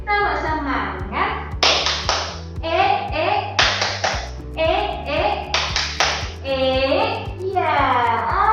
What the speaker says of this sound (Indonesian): Oke lagi. Tepuk semangat.